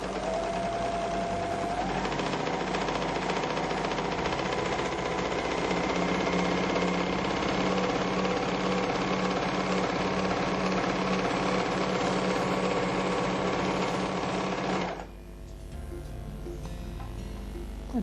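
A MerrylocK 3000CL overlock machine stitches continuously, a dense, loud, even mechanical whirr close by, sustained for most of the span before dropping suddenly to a quieter hum near the end.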